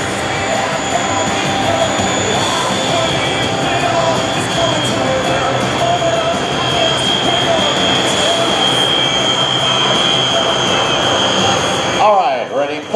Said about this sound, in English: Marty Sheehan leads the flight back in for the in-trail loop by all 3 aircraft.